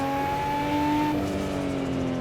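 Nissan Skyline GT-R R34 in Assetto Corsa at the Nurburgring, a loud sustained engine note held at high revs with a slowly shifting pitch and faint tire noise.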